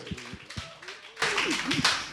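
Congregation clapping hands during a church worship service, a burst of broadband claps starting about halfway through and continuing to the end, preceded by a voice speaking with scattered sounds.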